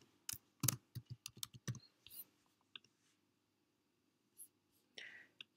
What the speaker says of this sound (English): And let's type hello.